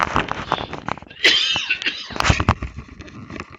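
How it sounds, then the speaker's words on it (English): A person coughs and clears their throat in a series of harsh, close bursts, with a raspy, strained sound in the middle. "I'm going to cough."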